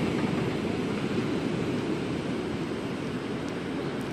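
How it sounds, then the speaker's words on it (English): Ocean surf rolls in as a steady, continuous wash of broadband noise, close and fairly even in loudness with no distinct breaks between waves and no voices. "Listen to the waves."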